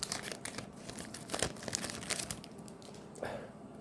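Crinkly plastic foil of a Pokémon card pack being torn open and crumpled, a run of sharp crackles and rips close by, steady over a few seconds with no voices.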